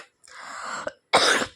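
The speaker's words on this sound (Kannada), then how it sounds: "ಕೆಮ್ಮು" A person coughs while cooking chicken sambar in a home kitchen: a long, raspy cough followed by a short pause, then a sharper, louder burst, close up with no talking.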